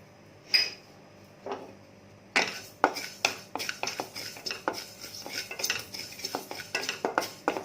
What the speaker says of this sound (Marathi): आता आपण तीळ परतून घेऊया।